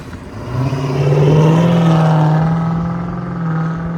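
A 2023 Jeep Grand Cherokee with a 5.7L HEMI V8 and a new clean-toned exhaust revs up close, rising to a sustained deep hum, easing, then swelling again, with no talking.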